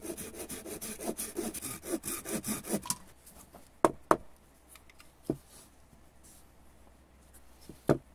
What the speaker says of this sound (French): on va, hop, scier à nouveau jusqu'au tiers